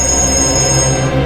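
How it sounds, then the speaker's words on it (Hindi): A phone rings with a loud, steady electronic tone that fills the whole moment, with no voices over it. "एक मिनट, फोन आ रहा है।"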